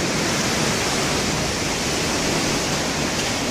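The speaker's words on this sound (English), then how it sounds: "It's water coming out from the neighbor's apartment" Water gushing out of a neighbor's apartment into a hallway with a cracked, broken door, a loud continuous rushing wash with no pauses.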